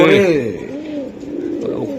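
A female racing pigeon coos close by in a loud, rolling burst that fades into softer murmuring.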